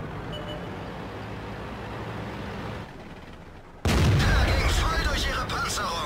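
A tank gun fires in World of Tanks, one sudden loud blast that cuts in after a quieter lull and rings out over the ongoing engine and battle rumble.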